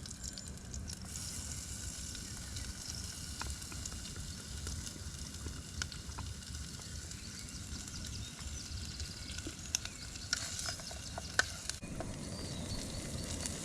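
Corned beef sizzling steadily in a pan while cooking outdoors, a continuous soft frying crackle with occasional louder pops near the end, no voices.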